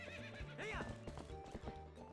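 A horse in Zelda Twilight Princess HD whinnies sharply over quick clip-clop hoofbeats as it gallops, close and clear, with a faint voice in the background.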